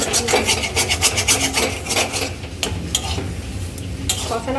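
Curry is sautéed in plenty of oil, a spatula scraping and stirring in quick rhythmic strokes against the pan over a low sizzle, close and continuous.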